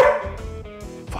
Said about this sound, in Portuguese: Vão ter cães que vão apresentar uma facilidade tremenda em latir.